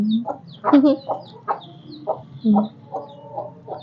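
Hen clucking close by: a series of short, irregular clucks and throaty calls in quick succession, loud and clear over faint background noise.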